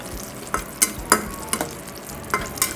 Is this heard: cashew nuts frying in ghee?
yes